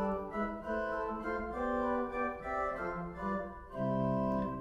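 Nasat two-thirds stop on a hybrid pipe and digital church organ, playing a bright, reedy, flute-like melody in sustained notes that move stepwise, moderately quiet and without speech.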